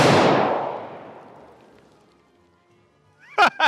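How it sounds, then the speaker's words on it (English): A pumpkin target shot with a bullet bursts in one loud, sharp explosion. It rings out and decays over about two seconds, followed by a couple of short vocal exclamations. "let's see this explosion"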